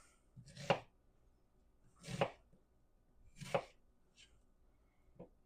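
A knife chops through apples or sweet potatoes on a board: about four distinct, well-spaced thunks, close and clear against quiet.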